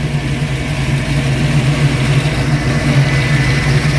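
A 1965 Ford Mustang with a 347 engine idles cold, a steady, loud, low rumbling burble with a slight lope, close up and alone.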